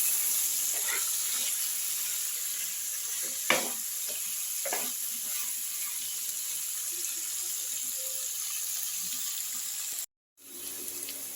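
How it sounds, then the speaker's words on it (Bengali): Potato pieces with salt and turmeric fry in hot oil in a kadai, giving a steady, even sizzle with a few soft clinks and a brief cut near the end. "আমি আলুটা এবার লাল লাল করে ভেজে নিচ্ছি।"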